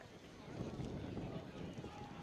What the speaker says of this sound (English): It was a lot windier during warm-ups. It seems to have died down a little bit, but still windy and chilly.